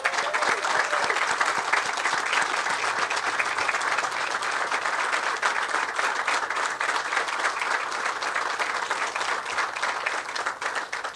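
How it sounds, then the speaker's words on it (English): A crowd at an outdoor police station groundbreaking ceremony applauds first responders and police officers with loud, sustained, dense clapping lasting the full stretch without any talking. "I'm going to ask for a very loud round of applause for all of our first responders and especially our police officers"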